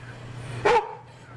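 A dog on a film set gives a single short, loud bark, close by, standing out from a low steady hum, with no talk during the bark.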